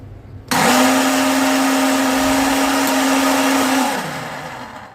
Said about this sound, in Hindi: हम लोगों जो हरा मसाला है हम लोगों ने इसको ग्राइंड कर लेना है।